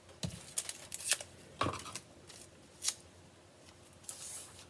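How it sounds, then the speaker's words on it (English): Ribbon scissors snip the tails of a ribbon already attached to a handmade card, giving several short, crisp cuts close by with quiet rustling between them and no talking. "grab your ribbon scissors. Again, now that the ribbon's on the card, I'm going to go ahead and angle my tails slightly like that."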